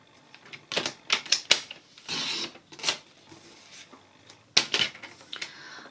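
Cardstock for a square card base, cut to 10 by 10 centimetres, is trimmed close by in several short, rasping scraping bursts separated by brief pauses.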